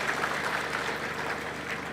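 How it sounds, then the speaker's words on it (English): Seminar audience applauding members of the National Assembly's Finance and National Planning Committee: a dense, steady wash of many hands clapping close by, even in loudness throughout. "Let's give them a round of applause."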